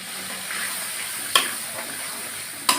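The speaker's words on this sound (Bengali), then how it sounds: "বেশ করে মশলাটা কষিয়ে নেব।" Spice paste with salt and turmeric fries in a pan with a faint, even sizzle, and two crisp clacks sound as a spoon stirs against the pan.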